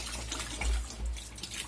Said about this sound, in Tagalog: Nadaan dyan yung tubig.